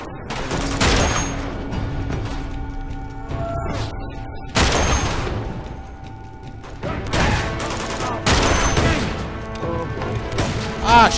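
Gunfire from the Uncharted 2 video game: repeated loud broadband volleys and bursts, clustered near the start, middle and end, with rumbling booms between them and occasional voices underneath.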